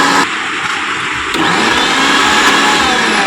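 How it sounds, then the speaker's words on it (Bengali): A kitchen mixer grinder whirs steadily and loudly, grinding boiled bottle gourd peel, its pitch shifting slightly partway through as the load changes. "এখন লাউ সিদ্ধ করা খোসাটা মিক্সচারে দিয়ে দেবো, গ্রাইন্ড করে নেবো।"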